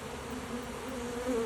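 A honey bee swarm pours down into a hive box, a steady, dense buzzing hum of many bees close by that holds level throughout with a slight swell near the end.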